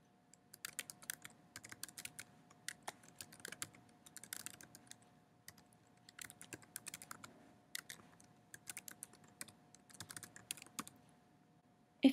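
Keystrokes on a computer keyboard as a username is entered, a quick irregular run of light taps in short bursts with brief pauses, fairly close and faint, with no talking.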